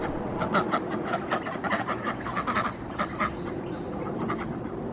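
Several ducks at a backyard duck pool quack in quick, overlapping bursts over a constant noisy background, the calls clustering in the first three seconds and then thinning out.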